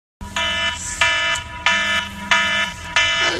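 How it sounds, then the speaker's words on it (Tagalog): An electronic fire-alarm-style buzzer blares in repeated loud, harsh pulses, five bursts about two-thirds of a second apart, ringing alone in a condo unit. "yung alarm mo"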